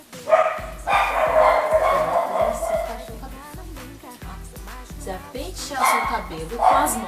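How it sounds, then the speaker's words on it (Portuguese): A pet dog barks repeatedly in a steady series of sharp woofs nearby while someone talks over it. "Não liga não que o meu cachorro tá latindo."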